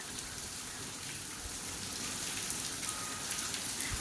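Rain falls on open ground under a sun-lit but cloudy sky in a steady, even patter with soft drops throughout and no voices.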